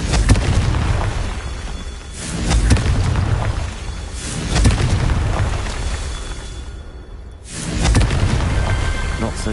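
Confringo fire spell blasts in Hogwarts Legacy, a series of loud booming explosions with rumbling bursts that swell and fade, close and heavy, separated by brief quieter gaps.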